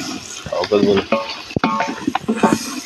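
A pot of biryani masala being stirred and sautéed, with scraping and clinking of a spoon against the pot and a soft sizzle, in short irregular strokes close by, with talk in the background.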